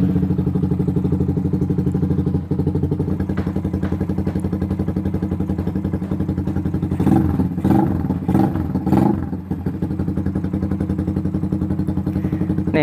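Suzuki Satria FU motorcycle engine idling steadily while warming up, loud and close, with a few short throttle blips and revs near the end before it settles back to idle.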